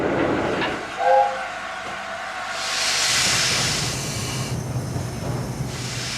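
An A4 steam locomotive rumbles nearby with a short whistle-like tone early on, then a rising hiss of steam over rhythmic rolling and clatter.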